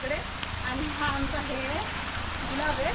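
Steady rain falls throughout, a dense wash of patter with voices talking over it.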